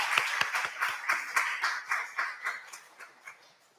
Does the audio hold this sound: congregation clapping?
yes